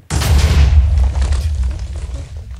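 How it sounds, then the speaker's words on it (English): Massive explosions in the Minecraft video game: a loud, booming blast bursts in abruptly and rumbles on for a couple of seconds as it slowly fades. "So, to make massive explosions."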